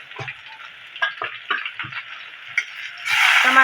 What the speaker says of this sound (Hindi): टमाटो पकेबा